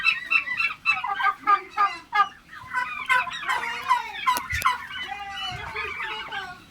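Turkey chicks on a farm of about 400 birds keep up a dense chorus of calls, with many overlapping peeps and clucking chatter close by and a couple of sharp knocks partway through.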